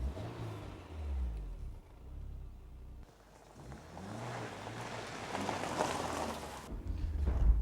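A 1999 Honda S2000 sports car driven fast, its engine revving and rising in pitch through repeated gear changes, with strong wind and road rush throughout.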